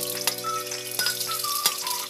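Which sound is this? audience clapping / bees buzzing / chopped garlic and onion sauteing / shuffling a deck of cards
chopped garlic and onion sauteing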